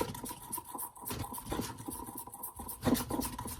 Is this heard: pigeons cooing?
no